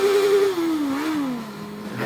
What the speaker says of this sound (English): I can kind of just open up the engine,